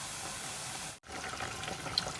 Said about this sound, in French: Je vais rajouter, voilà, mon huile de palme.